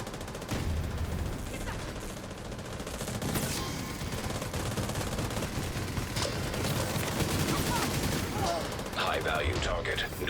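Hostile artillery turret in a video game firing in a continuous stream of heavy gunfire, loud and dense throughout, with voices talking underneath.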